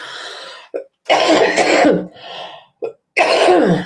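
Several harsh coughs in quick succession, separated by short pauses, loud and close with no talking.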